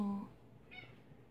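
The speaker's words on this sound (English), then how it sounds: "Good mommy cat." A mother cat gives a brief, faint meow after a louder opening sound, close by in a quiet indoor room.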